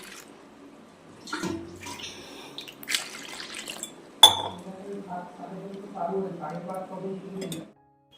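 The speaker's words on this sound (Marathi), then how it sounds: "आता ह्यात पाणी घालते" Water is poured into cooked dal in a pot, giving a splashing, gurgling pour with a few metallic clinks against the vessel, set among bits of nearby talk.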